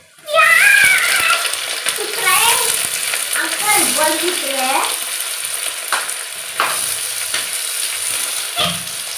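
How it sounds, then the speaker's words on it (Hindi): Onions hit hot oil with whole spices for a restaurant-style katla fish curry, giving a bright crackling sizzle with stirring and scraping of a utensil, while a voice talks over the frying. "और अब इसमें हम डाल देंगे प्याज।"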